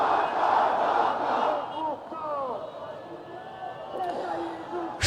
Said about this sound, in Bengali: আজ শুক্রবারও হাজারো ছাত্র জনতা এই মুহূর্তে শাহবাগে অবস্থান নিয়ে স্লোগান দিচ্ছে।